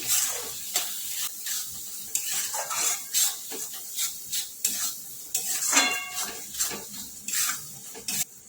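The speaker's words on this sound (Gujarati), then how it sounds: "હવે મિક્સ કરી લઈશું" Masala of turmeric, garam masala, red chilli, salt and Schezwan chutney stirred in a lightly sizzling pan for moong pulao, with repeated close spoon scrapes and clinks over a soft frying hiss.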